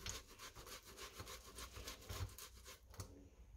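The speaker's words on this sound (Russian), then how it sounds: "Отварной картофель 4 штуки натираем на терке в кольцо." Four boiled potatoes rubbed against a kitchen grater, a steady run of soft rasping strokes at close range with no talk over them.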